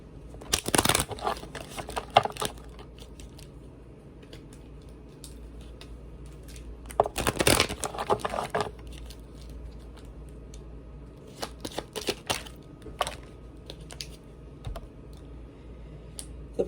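Tarot cards are shuffled nearby in quick crisp riffling bursts at the start and again in the middle, followed by scattered lighter card flicks and taps. The room around them is otherwise quiet and no one speaks.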